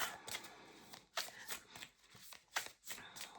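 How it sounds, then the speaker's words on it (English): A deck of tarot cards is shuffled by hand close up, giving soft, quiet riffling bursts at an uneven rhythm, with no talking. "I'm just shuffling these cards and I'm going to pick a card from this deck."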